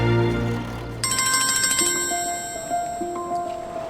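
An electronic phone ringtone plays a repeating melodic pattern of bright tones, steady and close, with no talking.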